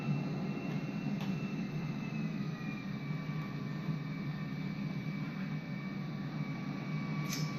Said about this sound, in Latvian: Mēs mēģinām pacelties ar kaut kādu dīvainu lidmašīnu.